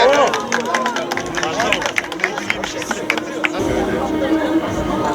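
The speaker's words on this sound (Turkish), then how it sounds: "bir kuvvetli alkış alalım mı?" Applause with cheering rises from a crowd of associations at a regional culture stand tour and Aegean-Marmara night, mixed with loud crowd chatter and voices talking over the clapping throughout.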